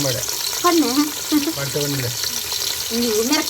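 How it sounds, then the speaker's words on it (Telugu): Onions and green chillies fry in oil in a close, steady sizzle while a voice talks over it in short phrases. "ఇప్పుడు ఉల్లిగడ్డలు వేసుకుందామండి మిరపకాయలు"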